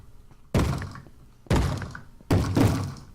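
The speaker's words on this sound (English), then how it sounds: "I hear a baby zombie. Who's trying to get in my door?" A Minecraft baby zombie banging on a wooden door: three heavy, booming thuds spaced about a second apart, each ringing out briefly, loud and close with no talking.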